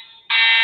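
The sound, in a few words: fire alarm going off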